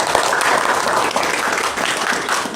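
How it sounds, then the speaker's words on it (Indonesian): Dense, sustained applause from an audience at a religious study gathering, broad and steady throughout with no speech over it. "Tepuk tangan lagi kepada peserta yang paling pintar."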